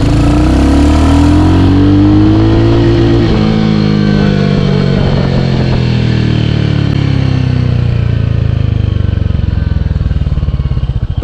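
A Royal Enfield Hunter 350 motorcycle accelerates hard in first gear, its engine note loud and close, climbing steeply, dipping briefly, then holding a steady droning rev.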